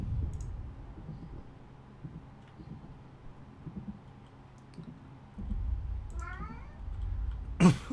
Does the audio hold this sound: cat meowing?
yes